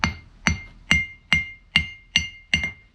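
A hammer strikes the unhardened horn of an anvil in a blacksmith's shop seven times at a steady pace. Each blow is a sharp metallic clang with a brief ringing tail, close and loud, with no talking.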